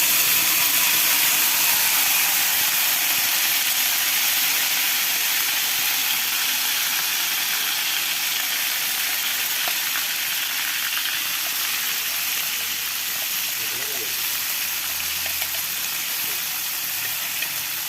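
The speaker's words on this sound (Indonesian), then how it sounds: "Setelah minyaknya panas, lalu masukkan bumbu yang sudah dihaluskan." Ground spice paste for Sundanese oncom sambal sizzles and spits in hot oil in a pan, a loud continuous frying hiss that holds steady throughout with no talking.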